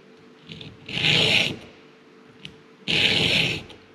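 A hand file rasps across a chainsaw chain tooth in two firm, close strokes about two seconds apart, with a faint tap in between.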